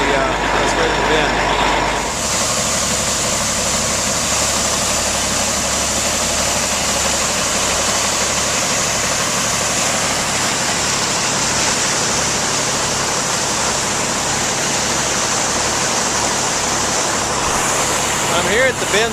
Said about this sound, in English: Brennan wheat from the grain cart into the truck on its way to the bin.